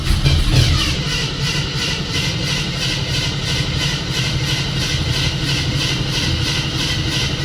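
A 1972 AMC Ambassador engine running steadily with a loud, even low rumble and constant mechanical drone, a brief surge at the start settling into a continuous idle.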